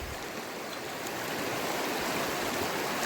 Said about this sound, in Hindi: शरीफ बन रखी है नदी, शांत बह रही है बिल्कुल।